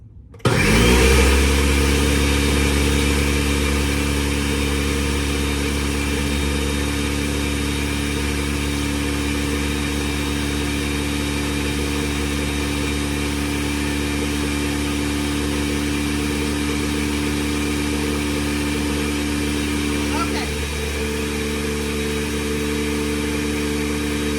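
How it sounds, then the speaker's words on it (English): A blender starts with a jolt and whirs loudly and steadily for the whole stretch blending hollandaise ingredients until smooth, a constant motor drone with a slight dip near the end. "mix this up until it's nice and smooth in your blender"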